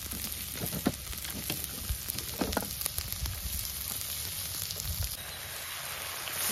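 Extra garlic fries in a little oil in a pan for chicken chiknadu, a close, continuous sizzling hiss with small pops and crackles scattered through it.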